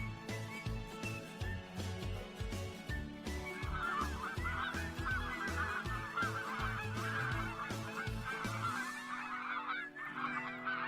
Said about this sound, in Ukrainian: золоті гуси.